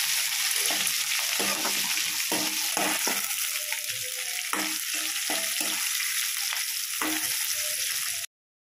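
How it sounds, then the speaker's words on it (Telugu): Tempering spices sizzle in hot oil with garlic and chana dal, a steady close crackle broken by the scrape of stirring, then cutting to silence. "పోపు దినుసులు వేసేసుకొని ఫ్రై చేసేసుకోవాలండి."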